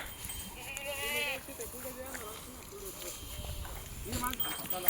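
Goats bleat several times at a goat farm, wavering calls close by, with a busy outdoor background and people speaking.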